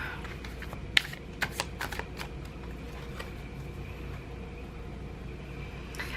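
A deck of tarot cards being shuffled by hand, a quiet, close run of soft riffling snaps and flutters, with a few sharper clicks at the start and then fading into faint rustling.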